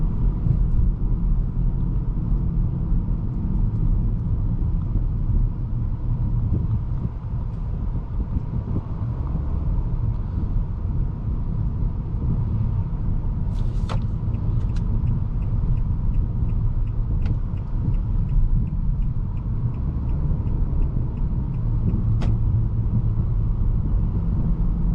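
A 2021 Nissan Altima SR AWD sedan cruises at highway speed, heard from the cabin as a constant low road and engine rumble with wind noise and a few faint clicks and knocks.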